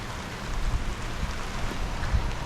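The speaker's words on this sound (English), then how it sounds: "Because here comes the rain." Rain falls steadily on a shop roof and tarp during a monsoon storm in Laramie, Wyoming, a dense, even wash with occasional heavier low thumps of drops.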